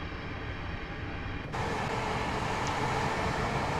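Great Western Railway IET train running on electric power with diesel engines shut off, a steady broadband cab rumble that steps up louder about halfway through as it accelerates.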